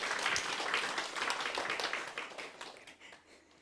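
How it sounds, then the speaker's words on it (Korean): A church congregation applauds together, a dense wash of clapping that is fairly quiet overall, steady at first and then thinning and fading out within a few seconds. "수고하신 분들 우리가 박수로"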